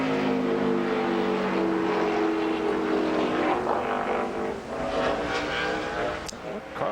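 A NASCAR Busch Series race car running a qualifying lap at Gateway, its engine a loud, steady roar that climbs in pitch and then sweeps past as it fades a little; commentators talk over it.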